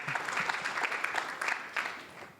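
Audience at an academic conference clapping for a speaker, moderately close, with distinct individual claps in an uneven patter that thins out toward the end.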